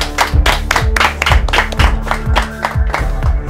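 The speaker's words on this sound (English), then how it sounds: "A round of applause." A round of applause at a children's brainpower game show: loud, dense hand claps from a group, close and steady with some strong beats, lasting a few seconds with no talk.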